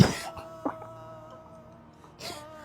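A man coughs in a short dramatized family scene, with three harsh bursts, one at the start, one brief one, then another near the end, separated by quiet moaning breaths.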